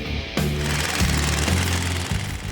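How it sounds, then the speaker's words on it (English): A loud pneumatic air hammer rattles in rapid bursts, stopping and restarting several times as it pounds at stubborn, nearly 30-year-old bolts on a Chevrolet Squarebody truck close by. "And that's when that loud air hammer comes back into play."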